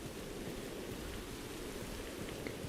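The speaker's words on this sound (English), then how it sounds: "Uh-oh, it's starting to rain." Rain in the Minecraft video game patters as a soft, even, continuous hiss with no breaks, faint and steady throughout.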